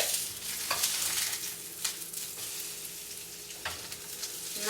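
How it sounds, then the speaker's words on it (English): Cauliflower, pear and onion patties sizzle steadily in a frying pan as they are turned, with a constant crackling hiss and a few brief scraping clicks from the turning. "these patties are waiting to be turned, so let's do it"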